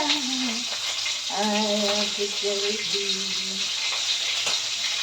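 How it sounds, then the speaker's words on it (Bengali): Shrimp sizzle steadily in a hot pan while being stirred, a continuous close frying hiss with soft scraping, and a faint background voice or tune briefly rising in the middle. "একটু চিংড়িটা চালিয়ে দিই।"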